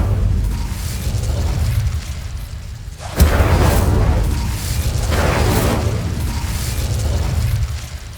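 The Incendio fire spell is cast in Hogwarts Legacy, a loud whooshing burst that flares suddenly and then roars on in a sustained, rumbling blaze with further swells.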